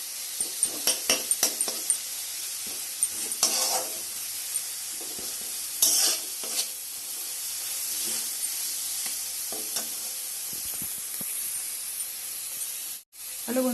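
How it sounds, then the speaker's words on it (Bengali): Onion, garlic, dried red chili and turmeric fry in hot oil as they are stirred, giving a steady sizzle and hiss with scraping stirs and occasional clatter. "দিয়ে মশলাটাকে ভালো করে কষাচ্ছি"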